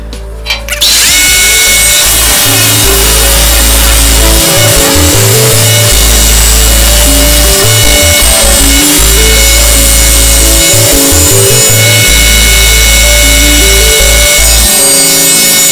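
Loud, continuous buzzing of a power saw cutting wood for a picture frame, with the motor pitch dipping and rising as it bites through the material.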